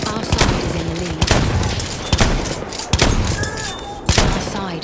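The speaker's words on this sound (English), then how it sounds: "Machine gun." Machine gun fire in the World War I shooter Battlefield 1, with rapid bursts of automatic shots and heavy thuds from the battlefield, loud and close throughout.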